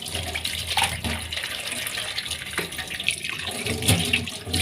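Tap water runs steadily and splashes into a sink, with a few faint clinks, and no talking.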